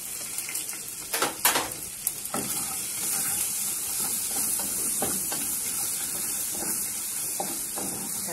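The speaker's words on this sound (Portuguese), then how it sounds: "Agora vou colocar um pouco de alho aqui para dourar." Garlic added to browned bacon in a pan sizzles and hisses steadily, with a few clinks and stirring scrapes at the start before settling into continuous, close frying noise.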